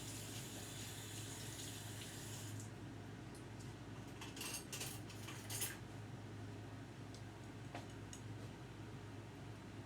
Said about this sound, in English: I will just use one of my little cups and rinse my hand off.